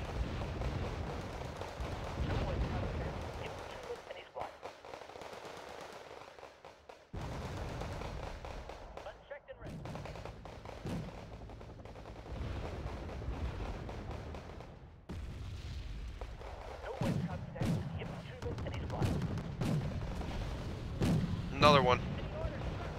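Artillery and gunfire crack in bursts during a Wargame Red Dragon battle, some blasts heavy and some sharp, scattered across the scene while someone talks over them.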